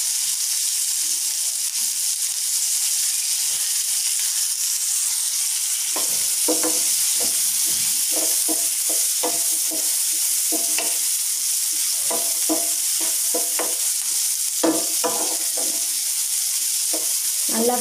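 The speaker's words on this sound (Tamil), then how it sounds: "வெங்காயம் மொத்தத்தையும் போட்டுருவோம். போட்டு நல்லா ஃப்ரை பண்ணிவிடுவோம்." Onions sizzle steadily in hot oil for paneer masala, joined partway through by a close run of irregular scraping and clacking stirs against the pan.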